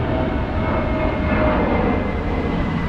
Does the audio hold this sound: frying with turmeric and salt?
no